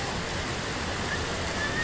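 The Sukdi river near Sojat Road flowing in a steady broadband rush of water, constant and fairly close, with no distinct splashes or voices over it.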